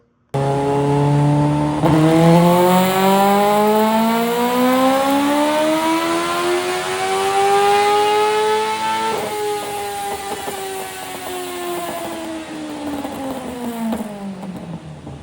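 A Mazda Miata with a swapped Honda CBR1000 motorcycle engine on a dyno pull, its high-pitched whine climbing steadily to a peak, then dropping as it winds down, loud and close with no talk.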